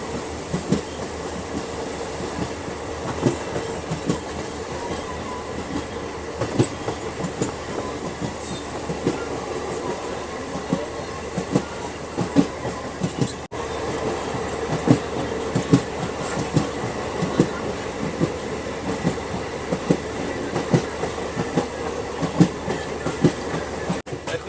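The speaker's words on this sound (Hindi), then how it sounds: "अभी जिस रेक में हम लोग ट्रैवल कर रहे हैं ये जनकपुर धाम से जयनगर के बीच चलता है" A passenger train running between Janakpur Dham and Jaynagar rumbles steadily throughout, with clickety-clack of wheels over rail joints and occasional squeals, heard from inside a carriage.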